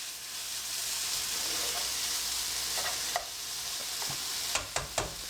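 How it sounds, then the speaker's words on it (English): Chunks of thick-cut bacon fry in a hot, oil-free pan with a steady loud sizzle and crackle, broken by a few clicks and scrapes of stirring near the end. "We will fry it up. I've got a hot pan, no oil."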